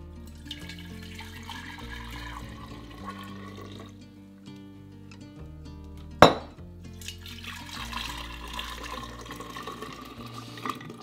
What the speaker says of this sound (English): we're gonna strain all of these teas out into the jars here